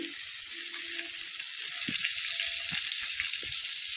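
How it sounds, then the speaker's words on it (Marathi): Brinjal sautéing with a pinch of cumin in hot oil in a kadhai, making a constant bright sizzle with a few faint low knocks from stirring underneath. "तेलामध्ये थोडंसं आपण चिमूटभर जिरं टाकलं आणि हे वांगे त्याच्यात परतायला टाकले।"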